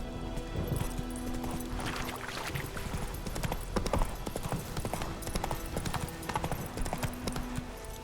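Roach the horse gallops in The Witcher 3, a steady rapid clip-clop of hooves running throughout over a busy game soundscape, with a brief whinny.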